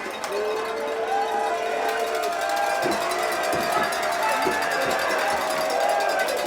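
Packed stands at a Massillon Tigers versus Westerville South Wildcats high school football game cheering through a fourth-down attempt, a steady crowd roar with scattered shouts, whistles and sharp knocks, and some nearby chatter.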